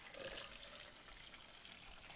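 Water poured along the sides of a Nikken PiMag Waterfall pitcher, a quiet, steady trickle and splash that runs continuously and close by, with no voices.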